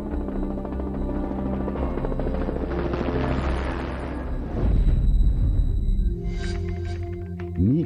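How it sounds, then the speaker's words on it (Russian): A Soviet Mi-4 transport helicopter's heavy rotor drone and engine whine fill the clip, loud and close, shifting in pitch as the machine passes and changes power. "Ми-4А – транспортно-десантный вертолет."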